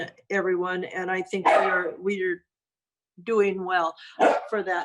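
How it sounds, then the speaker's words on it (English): A small dog barks in the background during an online water and sanitary district meeting, two sharp barks partly masked by a person speaking. "Let me apologize for my little dog in the background."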